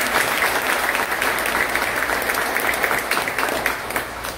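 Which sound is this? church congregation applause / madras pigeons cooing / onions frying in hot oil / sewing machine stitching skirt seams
church congregation applause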